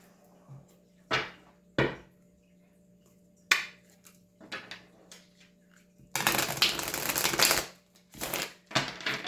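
Tarot cards are riffled and shuffled in short bursts, a few quick flutters then a longer run of rapid shuffling near the end.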